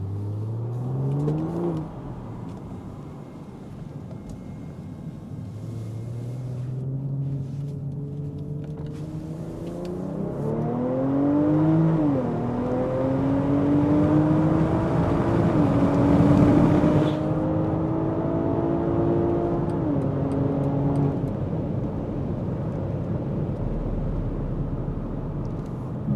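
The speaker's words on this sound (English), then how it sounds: "So that was a quick pull, and the car sounds really lovely." A tuned BMW G05 X5 45e plug-in hybrid with a Stage 1 ECU and deleted particulate filter accelerates hard onto a highway, its engine note climbing through several rising upshifts into a loud, sustained drone of cabin and road noise.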